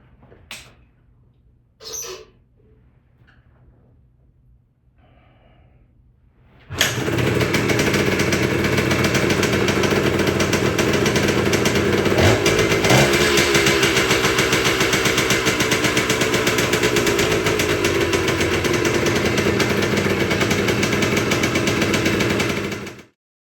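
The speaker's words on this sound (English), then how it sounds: "let's see if this thing starts" A 1979 Yamaha DT125 two-stroke motorcycle, newly fitted with a crank seal and CDI conversion, coughs a few times, then starts and runs loud and steady near the listener for about sixteen seconds, with a brief rev partway through, before cutting off.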